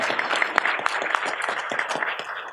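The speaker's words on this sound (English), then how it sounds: "Give yourselves a round of applause." An audience at the Los Angeles Convention Center claps through a cannabis industry legislative update and expo, a moderate, steady patter of many hands at a middling distance.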